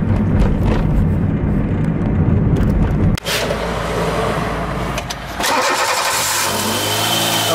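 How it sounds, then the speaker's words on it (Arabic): A car engine with fuel overconsumption and unstable running, surging and dipping in speed near at hand, loud and steady with uneven revving swells and a brief cut partway through. "تسمعوا فيه الموتور هذايا كاش يزيد وينقص"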